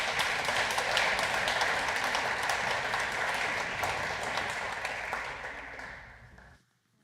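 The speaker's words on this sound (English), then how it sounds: "Let's give this group one more round of applause" Audience applause fills a hall at an FFA banquet, a dense sustained clapping from many people that gradually thins and fades out near the end.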